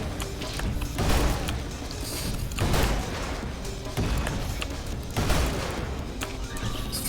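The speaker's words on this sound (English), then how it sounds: "Look at all these explosions!" Rapid explosions and blasts in the fast shooter ULTRAKILL, loud repeated bursts roughly every second or two over dense, continuous game noise.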